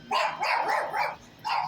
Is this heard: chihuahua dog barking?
yes